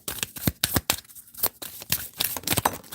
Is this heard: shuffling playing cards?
yes